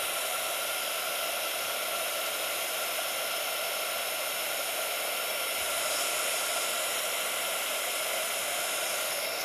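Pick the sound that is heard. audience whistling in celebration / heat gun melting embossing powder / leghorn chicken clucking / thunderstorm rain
heat gun melting embossing powder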